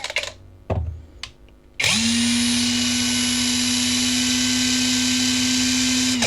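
A Dagmara TD172 impact driver spins up at its lowest speed setting after a few faint knocks, then holds a loud, steady high-pitched whine close by for several seconds with no talk.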